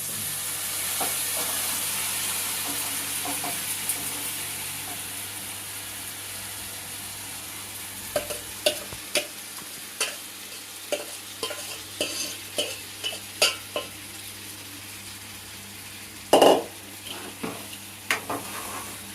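Fish curry with tomato stirs in a pan: a steady sizzling hiss runs throughout, and in the second half a spoon scrapes and clacks against the pan in irregular bursts, close and clear, with no talking.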